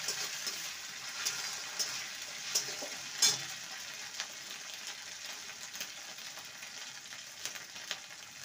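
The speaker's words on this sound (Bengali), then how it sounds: "আদা রসুনের পেস্টটাকে ভালো করে কষিয়ে নেব।" Ginger garlic paste fries with onions in a pan, a soft steady sizzle with occasional small pops and stirring scrapes, quiet and close with no talking over it.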